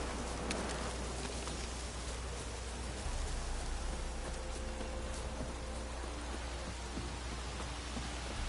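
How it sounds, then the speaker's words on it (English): A heavy in-game downpour in The Witcher 3 hisses steadily as a dense, even wash of rain, faint and continuous throughout with no voices. "This downpour's a bastard in it."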